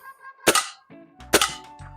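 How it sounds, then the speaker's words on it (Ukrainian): Two sharp, loud metallic shots about a second apart from a Gamo Swarm Magnum Pro air rifle striking a frying pan, each ringing briefly after the impact. "Давайте в сковорідку зроблю ще ще додатково два постріла."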